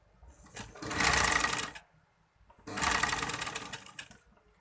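Sewing machine stitching along the back neck edge of a kurti, running in two sustained bursts separated by a short pause, close and fairly loud with no talking.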